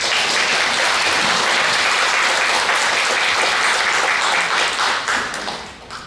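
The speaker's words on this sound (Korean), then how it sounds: "우리 한번 정규 박수 한번 하겠습니다" A church congregation claps together during a Korean Sunday worship service, a dense, steady round of applause that holds for several seconds and then thins out toward the end.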